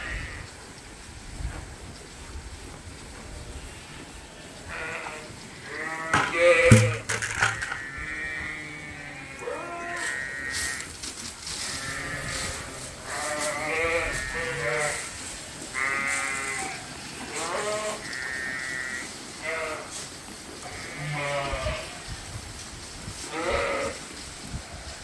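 Sheep ewes bleating repeatedly in a barn, many overlapping calls near and far over a low background hum.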